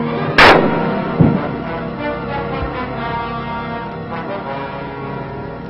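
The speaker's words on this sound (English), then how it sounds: "Machine gun fire." Gunfire in World War II jungle combat, one loud sharp report followed by a fainter second shot over a constant low rumbling background.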